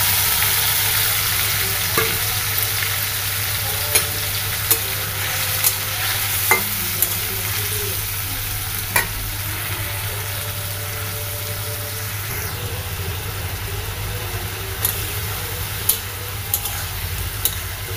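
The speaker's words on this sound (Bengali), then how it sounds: "ভালো করে কষিয়ে নিতে হবে।" Murola fish curry sautés and is stirred in a pan, a steady loud sizzle with a low hum beneath and occasional sharp scrapes and clicks of the spatula, no speech.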